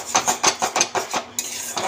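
A spoon scrapes and clinks against a pan while yogurt curry with carp is stirred and sautéed, giving repeated close, rhythmic scraping strokes with a faint sizzle beneath.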